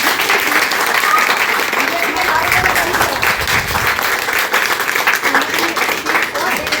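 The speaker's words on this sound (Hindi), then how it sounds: "मैं सभी अपनी महिला कांग्रेस के साथियों से निवेदन करूंगी कि इतने जोरदार तालियां बजाई जाए।" A crowd of women at a Mahila Congress protest in India applauding loudly, with dense, sustained clapping throughout and voices mixed in.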